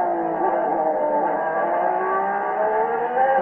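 Ayrton Senna's Honda-powered Formula 1 car at the 1990 Spanish Grand Prix holds a loud, steady high-pitched engine whine that climbs slowly in pitch throughout, with no talking.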